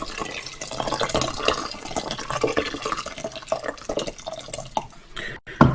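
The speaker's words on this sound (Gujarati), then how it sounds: "એમાં 4 કપ જેટલું આપણે ગરમ પાણી લઈએ." Hot water is poured into a pressure cooker for mixed vegetable khichadi, giving a faint, uneven trickling and splashing that ends with a brief louder sound.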